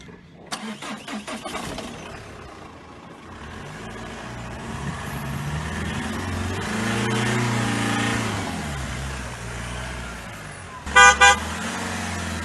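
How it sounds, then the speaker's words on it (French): A turbocharged 2-litre diesel car starts and pulls away, its engine revving loud and strong throughout, followed near the end by a few short, sharp horn honks. "Un turbo, un 2 litres de diesel. Ça envoie."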